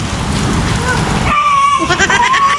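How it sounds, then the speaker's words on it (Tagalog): Steady rain pours down in a Filipino setting where people eat mami noodle soup, a broadband hiss throughout that changes character midway, with faint voices and a tonal sound over the second half. "Jason, umuulan kasi."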